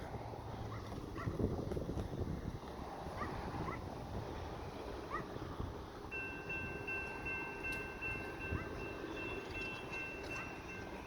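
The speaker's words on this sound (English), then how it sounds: "there's a train coming." A westbound Union Pacific manifest freight train approaches the Tehachapi depot near the Green Street railroad crossing, a steady low rumble building with wind noise, and a faint high horn-like tone entering partway through.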